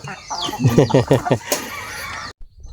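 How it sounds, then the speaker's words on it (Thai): Chickens cluck in a busy flock while pecking at chopped banana stem mixed with feed in the early morning, with loud, close, overlapping calls that fade out near the end. "ไก่เยอะเลย"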